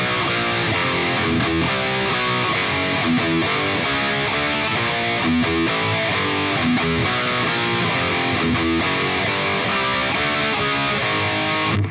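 A distorted electric guitar plays a thrash metal riff slowly, with a dense, saturated tone, steady chugging power chords and a constant loud level, unaccompanied and without voices.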